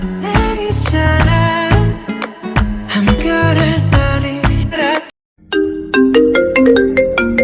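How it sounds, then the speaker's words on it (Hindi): A loud, bright phone ringtone melody plays in repeated phrases for an incoming call at night, pausing briefly before starting again. "इतनी रात में तेके फोन पर किसका कॉल आ रहा है?"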